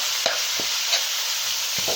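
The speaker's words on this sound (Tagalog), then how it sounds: "Gisa na natin sa mantika." Squid sautés in hot oil in a pan for adobong pusit, with a steady loud sizzle throughout and a few soft stirring scrapes.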